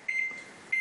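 Microwave oven control panel being set to high power, giving a short steady electronic beep tone that repeats after a pause, close and fairly quiet with a low hum beneath.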